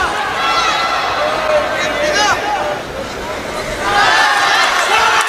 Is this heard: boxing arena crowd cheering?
yes